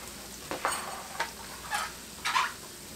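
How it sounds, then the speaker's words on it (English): Six cloves of garlic sizzle in a soup pot under a steady hiss, with four soft stirring scrapes spaced about half a second apart, close and fairly quiet. "it's time for us to add our garlic and let it get a little bit tender"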